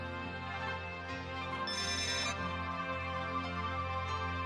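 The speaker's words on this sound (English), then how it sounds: "I'm getting a ton of notifications." A phone ringtone chimes in the Another Eden video game, a faint, steady tonal melody playing continuously without talk.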